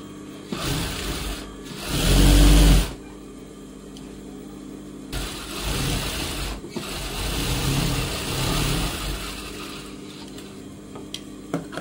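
Sewing machine stitching along a line on a blouse lining at the back neck, in short runs of mechanical whirring separated by pauses, with one louder, heavier burst early on and quieter bursts later.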